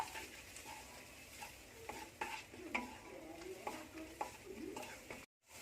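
A spice paste with turmeric and chili powder fries in a pan and is stirred with repeated scraping strokes, crackling softly and close, then breaks off briefly near the end.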